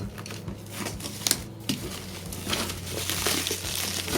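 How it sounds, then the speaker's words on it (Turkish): Plastic crinkles and rustles continuously as the plastic wrapping on a monitor arm is pulled open, with sharp crackles and a faint steady hum underneath. "Bu şekilde poşetini açalım hemen."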